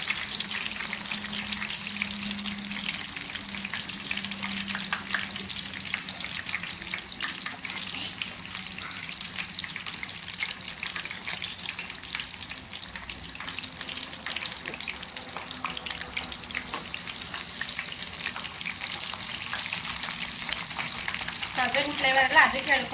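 Mackerel (bangude) fish fry with curry leaves sizzles steadily in a hot pan, a continuous close crackle of oil.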